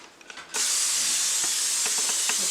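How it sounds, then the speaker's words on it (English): A short, steady hiss of aerosol cooking spray coating a pan starts abruptly and continues close by, with faint clinks in the background. "Now I'm going to spray a pan"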